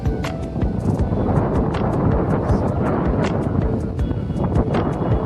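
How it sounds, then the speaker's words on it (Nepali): Strong wind buffets the microphone in a constant loud rumble, with scattered faint clicks and rustles. "हावा एकदमै रमाइलो छ।"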